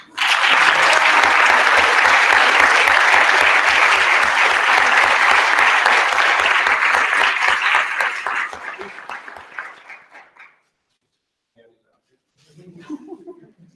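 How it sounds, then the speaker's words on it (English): Loud, sustained applause from staff gathered at a university all-staff meeting, steady for about eight seconds before fading out, followed by a brief murmur of talk. "So I'm going to give you applause."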